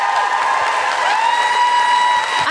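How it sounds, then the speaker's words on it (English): Live audience applause and cheering at a comedy podcast recording, a dense steady wash of clapping with whistle-like cheers running throughout, loud and close. "A big round of applause for Jessica Fostekew"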